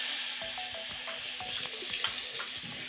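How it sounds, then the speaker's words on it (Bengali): Fish frying in oil in a pan, a close steady sizzling hiss with a series of light clinks and scrapes from a utensil moving the pieces, no voices heard. "এবার যে বাকি মাছগুলো আছে এটাও ছেড়ে দিচ্ছি।"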